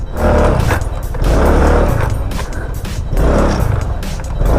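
Motorstar Easyride 150P scooter with an upgraded CVT, its engine revving close and loud in repeated surges that rise and fall about every second and a half, a rough buzzing roar with no talk over it.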